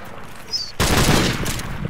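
A single video game gunshot bursts in after a brief quiet moment, a sharp blast that trails into a short, noisy decay.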